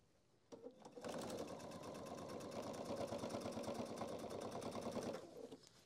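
A sewing machine runs a seam along fabric for a handbag organizer, with a fast, steady, close mechanical whir and needle chatter that starts abruptly, holds for about four seconds and then stops.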